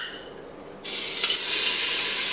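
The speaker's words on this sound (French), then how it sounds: "je vais rajouter l'huile d'olive dans le fond de ma casserole avec le beurre" Olive oil and butter begin sizzling in the bottom of a saucepan for risotto, starting with a sudden burst of frying hiss that then holds steady and close, with no talking.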